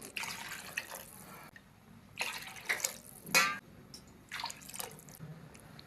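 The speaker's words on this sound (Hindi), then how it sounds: "6 प्याली हम पानी डाल लेंगे।" Water poured into a pot of rice for chicken yakhni pulao, heard as several separate splashing pours that come in bursts with quiet gaps between them, fairly close and with no talking.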